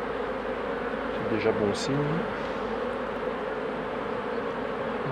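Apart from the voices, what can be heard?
honeybees buzzing around the beehives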